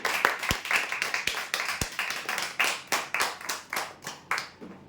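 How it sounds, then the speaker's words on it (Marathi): Loud hand clapping from a small audience at a prize draw, a quick burst of sharp claps that keeps a steady, lively rhythm before thinning out. "जोरदार टाळ्या वगैरेसाठी"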